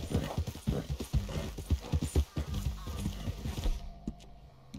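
A horse's hooves clip-clop in a steady, quick rhythm in Red Dead Redemption 2, fairly close, with the trotting cutting off near the end.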